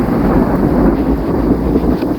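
Thunder rolls through a February thunderstorm as a loud, continuous low rumble, with rain hissing steadily underneath and no voices.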